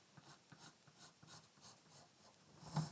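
A pencil sketches a line on a graph for a linear functions lesson, giving quiet, close, scratchy strokes in an even rhythm, with a slightly louder tap near the end.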